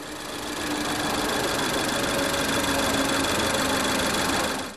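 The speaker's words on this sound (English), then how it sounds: "the little four-cylinder engine boasts 203 horsepower" A small four-cylinder turbo car engine of 203 horsepower runs with a steady, buzzing drone, close and fairly loud, holding an even pitch before fading at the end.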